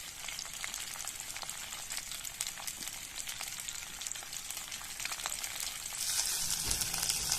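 Pork sizzles steadily in a hot pan with bhut jolokia chili and onion, a close, continuous crackling fry that grows a little louder toward the end.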